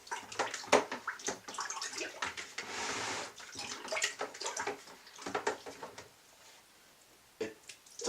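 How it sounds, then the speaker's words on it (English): Honey mixture for mead being stirred vigorously, giving a run of wet sloshing and splashing strokes in quick irregular bursts, close and fairly loud, easing off toward the end with a final few splashes. "Give it a good stir."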